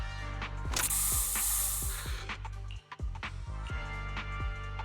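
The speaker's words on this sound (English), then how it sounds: "Here, have a taste of this special Bang-Boo spray!" A special Bang-Boo spray in Zenless Zone Zero releases a loud hissing burst for about two seconds, set among rhythmic mechanical clicks and ratcheting thumps that continue throughout.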